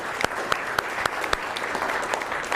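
Applause from a seminar audience, a steady crackle of many hands clapping at close range with a few sharper individual claps standing out, continuous and fairly loud throughout.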